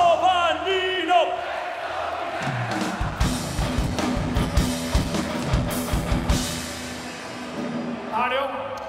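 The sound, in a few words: festival crowd applauding and cheering for presenter Giovannino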